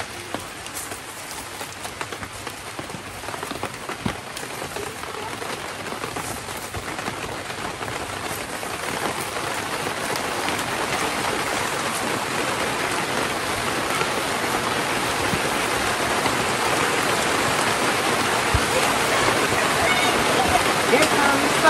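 Steady outdoor rain pours down during an autumn harvest of onions. It is a dense, even hiss that slowly swells louder over about twenty seconds, with faint voices underneath.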